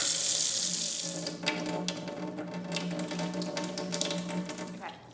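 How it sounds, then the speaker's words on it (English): A kitchen tap runs steadily into a sink during handwashing before cooking, a close, continuous rushing hiss with light splashing and clatter, fading as the water shuts off near the end. "Now we gotta make sure to wash our hands."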